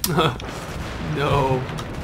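Battlefield 3 combat with bursts of gunfire and heavy booms rattling close by, mixed under someone talking over the shooting.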